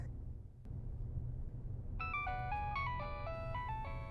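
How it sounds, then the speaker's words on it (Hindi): A mobile phone ringtone plays a bright, repeating electronic melody that starts about halfway through, over a low background hum in a quiet room. "किसका फोन है?"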